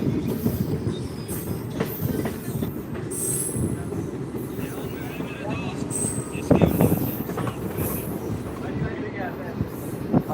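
A passenger train on the Bajpatti to Muzaffarpur line rolls onto a new track, giving a steady, close rumble of wheels and carriages with occasional squeals and clatter as it crosses the rails.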